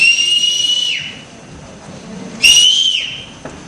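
A person gives two loud, shrill whistles to call friends, each a sustained high tone about a second long that drops in pitch at the end, separated by a quiet pause.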